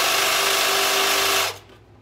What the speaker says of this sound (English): I was able to, put the Sawzall in here